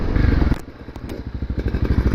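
A Honda CRF250L Rally dual-sport motorcycle engine chugs at a trailhead, a short burst of louder running falling to a low, pulsing idle-like beat.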